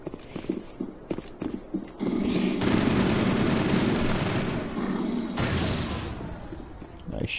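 Assault rifle fire in the video game Mass Effect: a few sharp single shots, then a long sustained burst of rapid automatic fire that breaks off and resumes briefly, loud and close.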